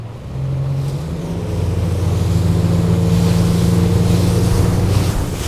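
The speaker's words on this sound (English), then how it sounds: "let's go driving in some following sea and see how the boat handles" An Axopar 22 Spyder motorboat engine drones steadily at 25 knots in a following sea, with rushing water and wind noise all around, rising slightly as it gets going.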